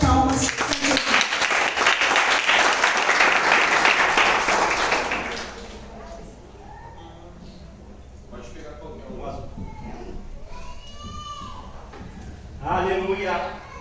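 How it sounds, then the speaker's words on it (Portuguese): A crowd claps in sustained applause for several seconds, then it fades and voices take over, with a brief burst of clapping near the end. "Vamos receber a serva de Deus com uma salva de palmas."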